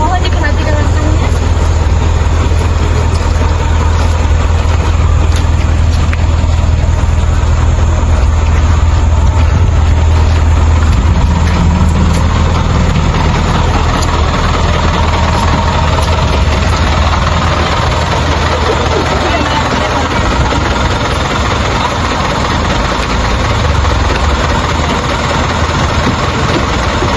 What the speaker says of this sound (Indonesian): ini adalah bus yang kita gunakan selama kegiatan tour ini